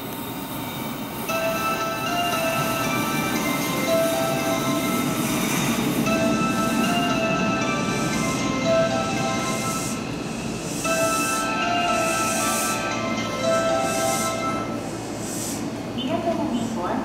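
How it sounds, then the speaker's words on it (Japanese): A Hanshin Railway 5700 series electric train rumbles into a station platform and slows with faint wheel squeals and steady mechanical hum, while a Japanese platform announcement voice talks over it throughout. "高速神戸行きが参ります。"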